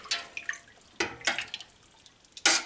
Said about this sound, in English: So in goes the rennet.